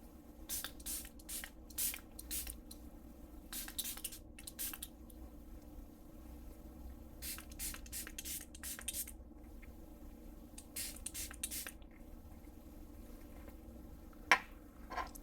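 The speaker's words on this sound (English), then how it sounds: "Spray your hands really good." Several quick bursts of lens-cleaning spray hiss onto hands in clusters, short pumps repeated with pauses between, followed by quieter handling and a sharp click near the end.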